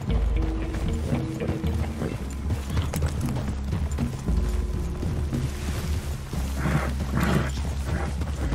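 Horses walk through a forest clearing in Red Dead Redemption 2, hooves clip-clopping in a loose rhythm alongside creaking tack and low ambient rumble, with no talking.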